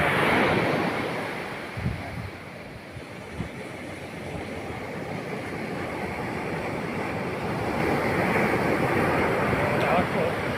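Strong high-tide ocean waves crashing on a shore, a loud continuous surf roar with wind buffeting the microphone, swelling again toward the end, while people talk faintly underneath.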